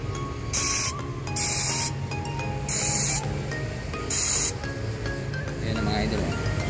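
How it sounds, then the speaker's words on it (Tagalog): Contact cleaner sprays onto the main power window switch of a 2016 Isuzu MU-X in four short hissing bursts, evenly spaced over a steady background hum. "Tapos spray natin ng contact cleaner."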